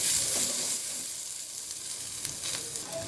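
Onion and garlic sizzle lightly in a blackened pan for an egg dish, a steady close hiss of frying with faint scraping from stirring.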